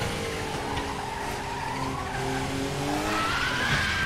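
A Porsche 962 C spins out in the RaceRoom racing game, its tyres skidding and squealing in a long, continuous smear over the droning engine, loud and close.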